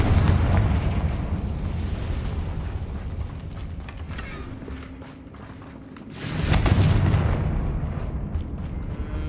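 Confringo fire spell explosions in the Hogwarts Legacy video game: a loud, booming blast rolls out at the start, fades into a rumbling bed, then a second heavy burst erupts about six seconds in.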